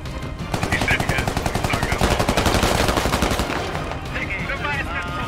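Sustained rapid automatic rifle fire in the military shooter game Squad, a steady rattle of close shots for several seconds that then thins out, with a voice briefly heard near the end.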